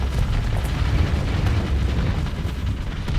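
Heavy Citadel warship blowing apart in a Starsector space battle, a dense, continuous low rumbling roar of explosions with crackling bursts throughout, loud and sustained.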